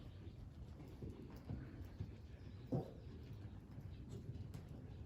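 Horse hooves clip-clop softly on the ground during a horsemanship training session, a few faint, irregular steps with one slightly louder strike, heard fairly distant amid low background noise.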